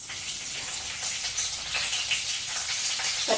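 Mustard seeds, cumin, dried chillies and curry leaves hit hot oil for tomato pappu, a close, bright sizzle with faint crackles and pops scattered through it, steady and unbroken, with no speech.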